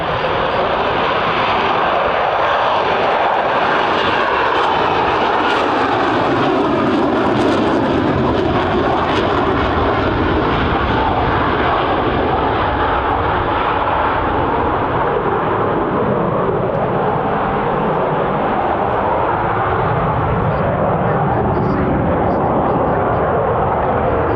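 A jet aircraft coming in to land with its gear down at the Cosford airshow: a loud, continuous roar of engine noise that dominates the whole stretch and holds steady, with a faint voice beneath it.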